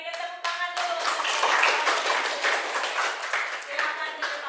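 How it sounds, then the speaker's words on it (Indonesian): Classroom applause during a teacher's practice lesson: children clap steadily and densely for several seconds, close and fairly loud, with a few voices mixed in. "Kita berikan tepuk tangan dulu."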